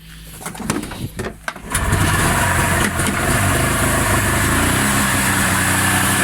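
A snowmobile engine cranks with a few uneven bursts, then catches and settles into a loud, steady, close running drone that holds to the end.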